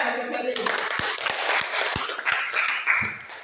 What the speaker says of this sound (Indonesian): tepuk tangan untuk Ferry